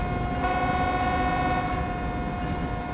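A sustained loud train horn in Train Sim World 3 on the Cajon Pass route, a steady multi-tone blare held without a break over the engine rumble.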